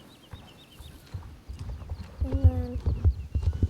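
A horse's hooves clip-clop in a steady series of heavy, close thuds that grow louder toward the end, with a short whinny-like tone midway and a brief spoken phrase near the start.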